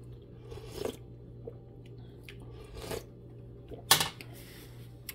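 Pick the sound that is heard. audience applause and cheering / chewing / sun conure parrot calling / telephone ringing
chewing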